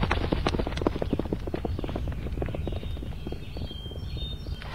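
Horse hooves clip-clop in the video game To the Moon, a quick run of dense, rhythmic knocks that continues steadily through the stretch over faint outdoor ambience, with no talking.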